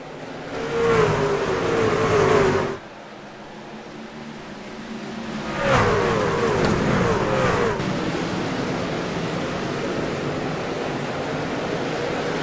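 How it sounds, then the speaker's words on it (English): A NASCAR Class C truck roars on the dirt version of Bristol Motor Speedway in iRacing, with a loud engine rise early, a brief drop, then another surge and a steady, broadband drone from the pack of trucks. "Graham Bolin steps on the gas pedal"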